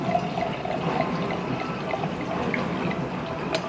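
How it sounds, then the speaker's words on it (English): Rosé wine poured from a bottle into a glass in a home kitchen, a steady liquid trickle running continuously at close range with no talk over it. "I'm gonna get my glass of wine and I'm gonna pour that up for you guys."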